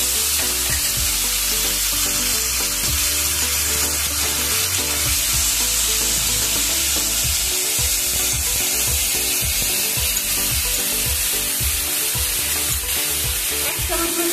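Onion-garlic paste and bay leaves frying in hot oil with whole garam masala, a steady loud sizzle with occasional stirring scrapes throughout.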